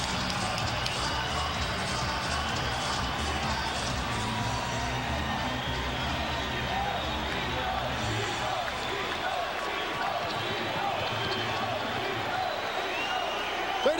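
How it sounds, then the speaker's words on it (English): A boxing arena crowd roars and cheers continuously as the fighter approaches the ring, a dense, steady wall of massed voices with scattered whoops and claps throughout. "the crowd responds as they see the fighter approach the ring"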